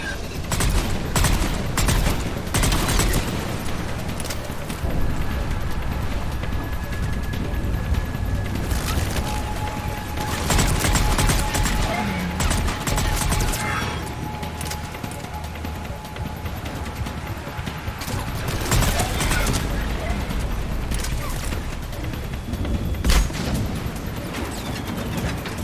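Heavy firefight in Mass Effect Legendary Edition, with dense overlapping bursts of weapon fire and booms sustained throughout at close range, a few louder blasts standing out.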